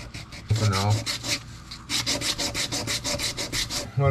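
Hand sanding on a wooden fishing lure, with rhythmic rasping strokes in quick bursts, close and clear, and a brief low hum between strokes.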